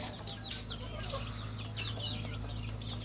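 Gamefowl chickens, old-time lemons crossed with reds, cluck and chirp repeatedly in a yard, soft and somewhat distant over a steady low hum.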